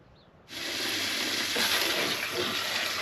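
Tap water pours into a kitchen sink holding home grown apples, starting abruptly after a quiet moment and then rushing steadily and loudly to the end.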